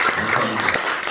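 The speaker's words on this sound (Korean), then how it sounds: "큰 박수로 우리 한번 감사드리겠습니다" A brief, dense burst of audience applause, dense and steady, at a church coalition press briefing on earthquake relief aid for Turkey and Syria in Orange County.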